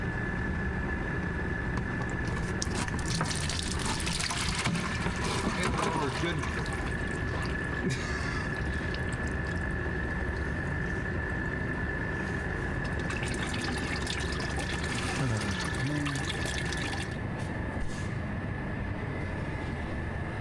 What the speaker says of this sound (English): my next goal is to drain the oil